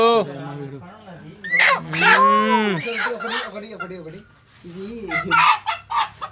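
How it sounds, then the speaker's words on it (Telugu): Loud rooster calls, drawn-out and honking, rise and fall up close, mixed with people talking nearby. "ఏ చోటు బర్త్డే కోళ్ళు ఇవే చోటు బర్త్డే కోళ్ళు"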